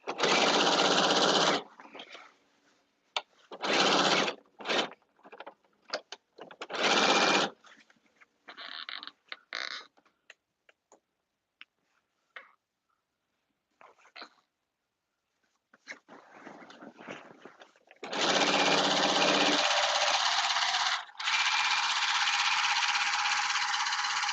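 A sewing machine stitches a caftan in quick bursts early on, then runs a long steady stretch near the end, with quiet gaps and light handling noises in between.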